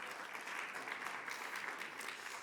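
Steady applause from an audience at a mayors' and business leaders' breakfast, an even wash of clapping heard at a distance and fairly faint, continuing throughout.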